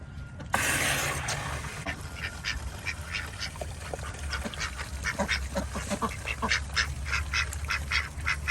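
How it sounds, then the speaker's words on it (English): Ducks quack over and over in a busy, overlapping chorus, fairly close, with a faint low rumble underneath. "I like how these ducks sound."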